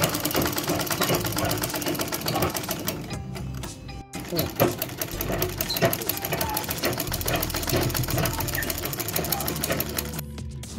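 A sewing machine stitches the cross belt of a blouse in rapid, steady mechanical bursts with a couple of brief pauses, loud and close, with some talk alongside.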